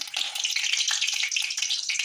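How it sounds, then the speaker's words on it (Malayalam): Mustard seeds frying in hot sunflower oil in a pan, a steady bright crackling sizzle with dense rapid popping throughout, close and fairly loud, with no talking. "ഇനി നമുക്കിതിലേക്ക് കടുക് ഇട്ട് കൊടുക്കാം"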